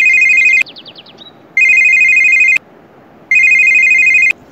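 A phone ringtone plays loud and close in two bursts of electronic tones, about a second each, with a short gap of warbling between them and a quiet room behind.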